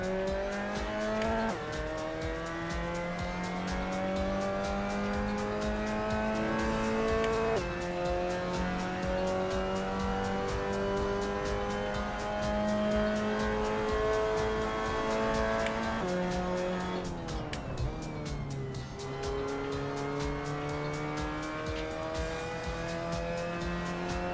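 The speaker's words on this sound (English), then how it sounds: "Breathing room for the downshifts in the MX5." A Mazda MX-5 Cup race car in a VR racing game at Silverstone roars steadily, its engine note stepping down through several downshifts with brief tire squeal, loud and continuous with no talk.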